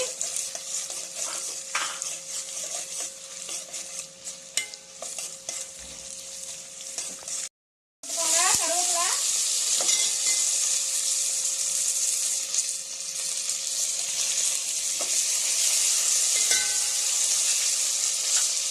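Kashmiri and regular dried red chillies fry with black peppercorns in a pan for Chettinad chicken, a close, steady sizzle with stirring scrapes. It cuts out briefly partway through, then returns louder.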